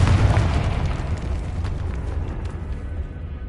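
A Confringo spell explosion in Hogwarts Legacy, a dense rumbling blast that starts loud and slowly decays into a crackling, fading roar over a few seconds.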